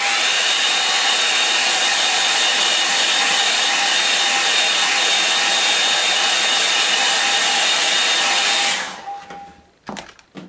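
A hair dryer blasts close and loud in a steady roar for about nine seconds while drying a watercolour painting, then cuts off, followed by a few small clicks and knocks.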